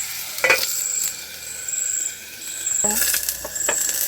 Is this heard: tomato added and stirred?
yes